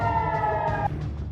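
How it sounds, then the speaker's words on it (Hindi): An air raid siren sounds in Tel Aviv, a loud steady tonal wail that holds and then cuts off partway through the brief moment, leaving a rumbling backdrop. "सायरन बज उठा।"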